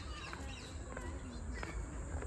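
Chickens and other fowl call loudly at a family outing, with clucks and bird calls layered over a busy, noisy background where people talk.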